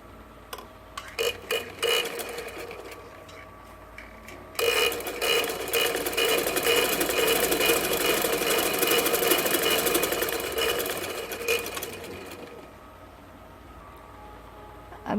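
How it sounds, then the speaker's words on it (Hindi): A sewing machine stitches a kurta. Its rapid, steady mechanical clatter runs continuously for several seconds, close and fairly loud, framed by quieter handling sounds and short bursts before and after. "इस बंद साइड पे सिलाई लगाएंगे।"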